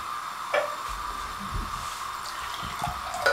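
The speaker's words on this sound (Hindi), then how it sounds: "थोड़ा सा पानी शामिल करेंगे।" A thin trickle of water pours into a thick mutton masala paste for green mutton curry, with a few soft clinks and a faint steady hum in the background.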